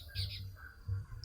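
Small bird chirping outdoors near a fence, brief high tweets that come and go, faint and fairly distant over a low background rumble.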